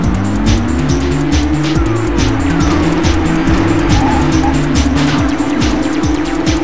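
Race car engines in the Fatal Racing video game whine continuously with rising and falling pitch, layered with repeated gear-shift surges and tire squeals, loud and close throughout.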